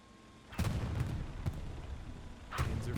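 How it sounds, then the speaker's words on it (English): Tank cannon fire from a Panzer IV trading shots with Shermans in Hell Let Loose, heavy booms at irregular intervals over a constant rumbling battlefield background. "Panzer IV exchanging blows with the Shermans at the top left of our screen"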